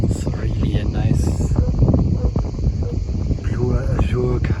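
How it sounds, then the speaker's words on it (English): Strong wind gusts buffet the microphone aboard the trailerable yacht Queen Bee while sailing in a Croatian bay, a steady close rumble with surging bursts and a voice speaking over it. "the wind is a little weird. Sometimes we have strong gusts"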